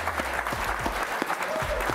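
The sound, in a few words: applause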